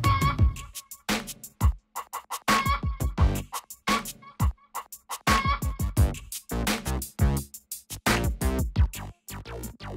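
Cartoon voice mimics chicken clucking for the chicken dance, rapid choppy bursts repeating throughout, loud and close with short gaps between phrases.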